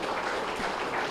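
Audience clapping at a spiritual meditation training gathering, a dense, steady wash of applause filling the whole moment with no voices over it.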